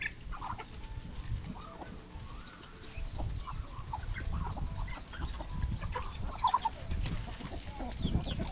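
Steady clucking and chatter from many chickens and Muscovy ducks fill the yard, a dense flock sound with occasional sharper calls and no speech.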